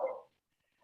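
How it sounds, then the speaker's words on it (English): A dog gives one short indoor bark at the very start, then quiet follows, with a faint stir near the end. "oh, sorry, my dog's barking"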